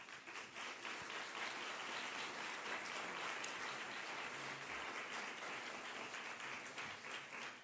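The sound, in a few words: audience applause for speaker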